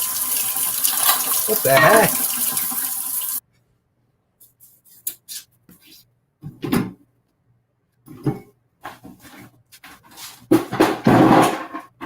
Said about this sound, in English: this is epic dishwasher time